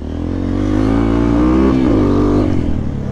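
Close, continuous engine drone from an off-road vehicle being ridden on rough ground, rising and falling slightly in pitch as the throttle changes, with no talking.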